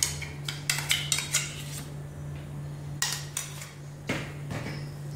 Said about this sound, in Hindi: इसे भी अच्छे से मिक्स कर लेते हैं इसमें।